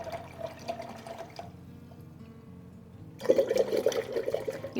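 A paintbrush is rinsed in water: a quiet trickle and faint swishing, then a louder run of splashing and sloshing near the end.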